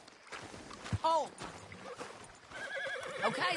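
A horse in the video game Red Dead Redemption 2 gives a short, sharp whinny near the start, followed by soft hoof and movement sounds with game voices talking quietly.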